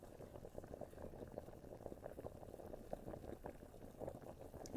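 A witch's potion cauldron filled with water and catalysts bubbles softly and continuously, a faint, dense stream of small pops and gurgles with no voices.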